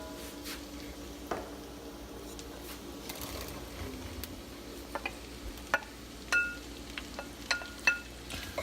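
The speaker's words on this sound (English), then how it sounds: "We'll let those mushrooms cook down." Mushrooms cooking in a pan, a low steady sizzle with scattered small pops and clicks throughout, fairly quiet and with no talking.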